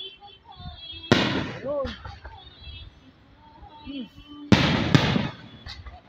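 Fireworks at a Barangay Prinza celebration burst in two loud, crackling volleys a few seconds apart, each a sharp bang followed by scattered pops, while nearby spectators chatter and exclaim in the quiet stretches between.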